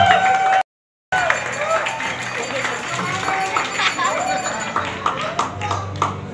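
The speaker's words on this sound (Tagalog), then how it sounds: "sa inyong palakpak na may kasamang sigawan" Wedding guests at Villa Leonora Resort applaud and cheer loudly, with dense close clapping and shouts broken by a brief dropout near the start, then continuing with voices mixed in.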